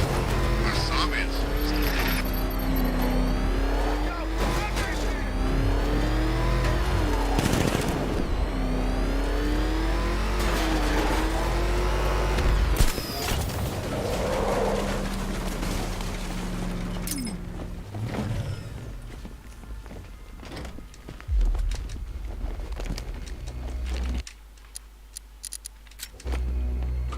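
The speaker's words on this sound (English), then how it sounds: "Have you seen Batman's car? It turns into a tank." Batman's car engine in the video game Batman Arkham Knight, revving and accelerating with rising and falling whine and mechanical clunks, loud and close, under game dialogue.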